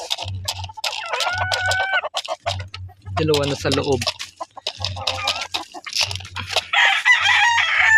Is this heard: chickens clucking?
yes